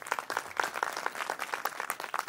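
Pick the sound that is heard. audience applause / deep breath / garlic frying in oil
audience applause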